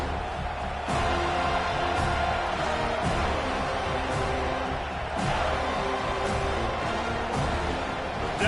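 Loud stadium crowd in a Madden football video game rises and cheers on third down, a continuous roar with rhythmic swells roughly every second, as if fans are chanting or stomping along.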